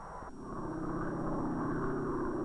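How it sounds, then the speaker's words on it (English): A steady drone of observation, weather and instrument planes in flight over an island, a continuous engine hum that holds level and fairly loud throughout, with no voices. "Observation, weather, and instrument planes take to the air from their base on a neighboring island."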